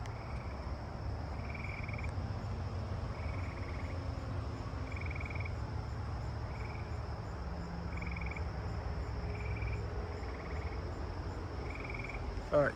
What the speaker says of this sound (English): let me let you listen to the eastern gray tree frogs one more time